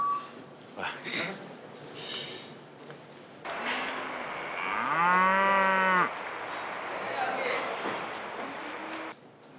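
Cattle moo at a livestock market, one long loud bellow with a rising then steady tone in the middle, plus fainter moos earlier, over background crowd chatter and clatter.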